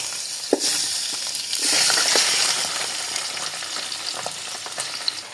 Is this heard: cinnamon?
yes